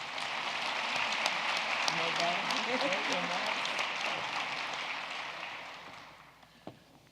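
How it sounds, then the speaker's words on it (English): Audience applause at a University of Michigan Women of Color career conference keynote: dense, steady clapping from a large hall crowd that holds for several seconds, then thins and fades out, with a last few scattered claps near the end. "Let us give a rousing applause to each of them as they greet us."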